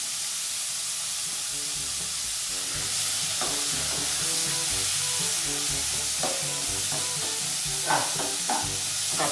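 Pork being stir-fried in a pan over medium heat with sauce added, a steady loud sizzle and hiss broken by scraping, clattering stir strokes; background music plays underneath.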